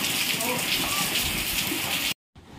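Rain falling, a dense steady hiss of drops on surfaces, fairly loud, cutting off abruptly near the end before resuming faintly.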